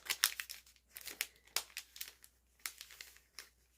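A small paper sack is folded and creased by hand, giving a run of close, crisp crinkles and rustles that come in short bursts with brief pauses between them.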